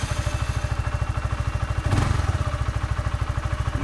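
A cold Honda CBR 125 motorcycle with an Akrapovic replica exhaust idles close by in a fast, even, thumping putter, with a slight brief rise in the middle and no talking.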